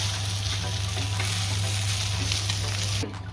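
Kanda poha made with onion is stirred in a hot pan, producing a dense, continuous sizzle with soft scraping and a steady low hum beneath it, and the sound drops off sharply just before the end.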